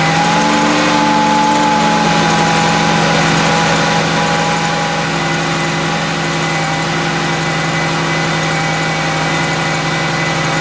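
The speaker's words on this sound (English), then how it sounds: "Now I'm going to go ahead and start the car and keep an eye on the belt" A Chrysler 200 with a newly replaced belt tensioner and idler pulley starts up and settles into a steady idle. The engine hum and light vibration are loud and close and run unbroken, with no talking.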